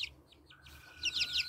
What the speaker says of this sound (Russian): Русские хохлатые куры